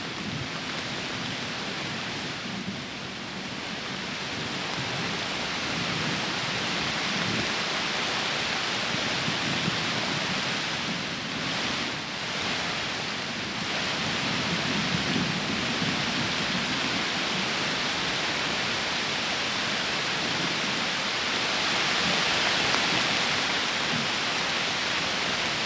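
Strong wind gusts roar through a hailstorm, a broad, dense rushing noise mixed with pelting precipitation that holds steady and loud throughout, with slight surges and no voices.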